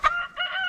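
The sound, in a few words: rooster crowing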